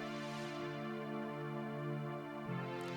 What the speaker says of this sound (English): Now this pad is a bit of a synthy pad,